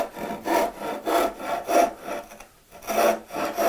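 A handsaw cuts along marked lines in a wooden board, its strokes coming as a steady back-and-forth rasp, about six close, even passes with a brief pause near the end.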